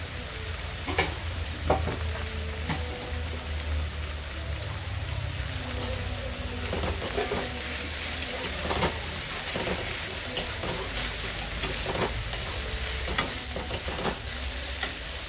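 Dhekia fern greens fry in a pan with a steady close sizzle, broken by scraping stirs and clinks of a utensil against the pan, with no talking.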